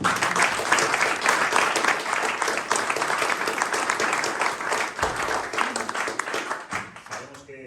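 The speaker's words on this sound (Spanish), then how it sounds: "Un aplauso," Sustained audience applause at a local commemoration of the Spanish Civil War in Karrantza, dense and loud for several seconds before thinning out and fading.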